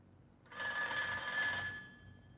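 A telephone bell ringing indoors, one sustained bright metallic ring lasting about a second and a half, close and loud, fading out afterward with no talk over it.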